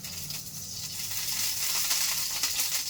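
Ghee crackles and splutters in a hot pan while dry-fruit mix masala cooks, a steady close hiss of fine popping sizzle that swells slightly, with no voices.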